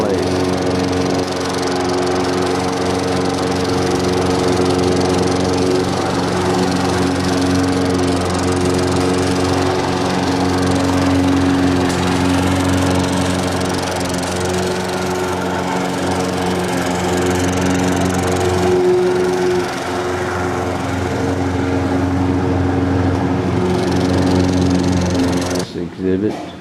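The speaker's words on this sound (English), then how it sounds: "in spite of the lawnmowers" Lawnmowers run at a German military cemetery in Normandy, a loud, continuous buzzing engine drone close by that holds steady for nearly half a minute, with speech partly masked under the noise.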